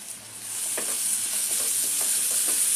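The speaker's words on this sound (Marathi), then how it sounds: "चांगलं परतून घेऊया।" Egg bhurji with onion, tomato, turmeric, chilli and coriander sautéing in a pan, a constant bright sizzle with a few soft stirring scrapes, close and steady, no voices.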